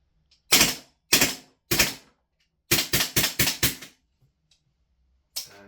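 A VFC MCX Rattler gas blowback airsoft rifle dumps a magazine with three sharp, separate shots, then a quick string of five, and one last shot after a pause. The reports are loud and close, with no voices.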